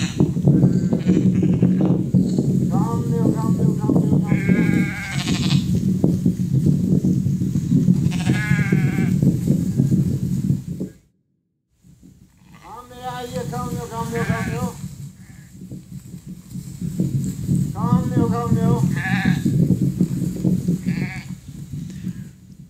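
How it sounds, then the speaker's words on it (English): A flock of sheep bleats repeatedly and loudly as the animals come in when called, with overlapping calls and a brief silent break midway. "Look at the sheep are still coming. He's called them in."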